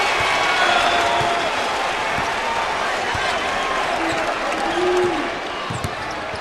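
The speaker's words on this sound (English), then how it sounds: "the crowd appreciates the defensive effort" A basketball crowd at a Louisiana at LSU game cheers and applauds a defensive play with blocked shots, loud sustained arena noise mixed with a commentator's talk, easing off near the end.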